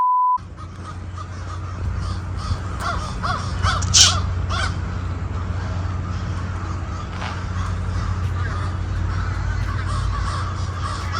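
A huge flock of crows caws repeatedly, some close and loud, others farther off, over a constant low rumble of background noise.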